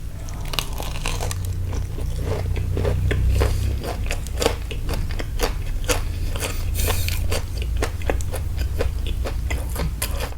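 Crispy fried chopped chicken being bitten and chewed close up, a rapid series of sharp, loud crunches in an uneven rhythm over a low steady hum, with no talking.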